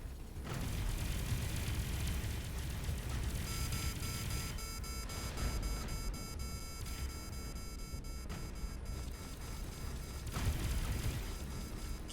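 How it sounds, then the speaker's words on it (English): Main cannons on a spaceship in the space game Avorion fire in a sustained barrage of heavy, booming blasts with rumbling, mechanical layers, loud and continuous with no voices. "these main cannons are a lot harder to aim with"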